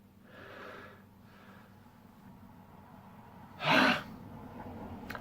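A single person's sneeze bursts out loud and close, preceded by a couple of softer breaths or gasps, against a quiet indoor background.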